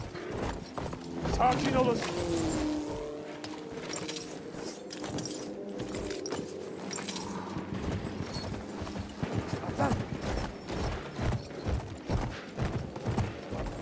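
Horse hooves clip-clopping in the video game Battlefield 1, a quick irregular trot under frequent voices and radio chatter, with jangling tack and scattered game sounds.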